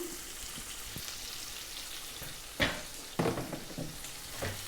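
Onions sautéing with salt in a pan for Tamil mor kuzhambu give a steady low sizzle throughout, with a few brief louder stirring scrapes near the end.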